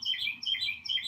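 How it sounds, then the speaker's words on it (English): Birds in the trees chirp and sing loudly and close by, a quick series of bright repeated tweets in short bursts with no talking. "I'm not sorry that the bird song is so loud because I love it"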